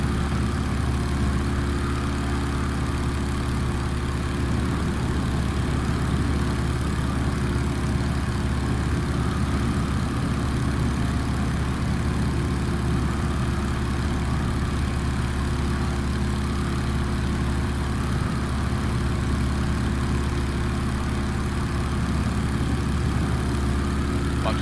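Steady droning engine of a Stearman 75 biplane flying with an open canopy in a flight simulator game. The drone is loud, unbroken and low-pitched for the whole stretch, with no talking.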